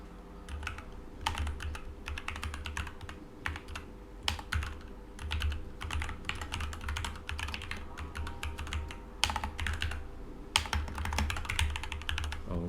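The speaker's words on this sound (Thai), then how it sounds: "แล้วเราก็ พิมพ์ตัว description ตัวนี้ให้ ให้เรียบร้อยนะครับ" Steady computer keyboard typing, a rapid run of close, crisp key clicks in irregular bursts with brief pauses, over a low background hum, entering a repository description.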